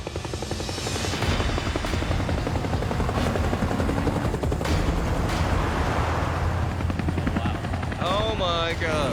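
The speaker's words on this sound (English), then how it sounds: "in the distance, see come two bloody helicopters and two trucks just driving and flying towards us" Helicopters thud overhead in the desert with loud, rapid rotor beating that swells and lingers, overlapped by people talking and a rising whistle near the end.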